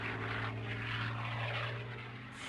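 A P-40 Warhawk propeller fighter plane drones steadily with a low engine hum and a broad roar. The sound holds at an even level for a couple of seconds, with no talking.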